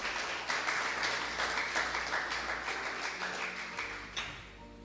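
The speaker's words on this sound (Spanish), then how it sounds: "Démosle un aplauso al bendito sea." A church congregation applauding steadily for several seconds, dense clapping that slowly thins and fades out near the end.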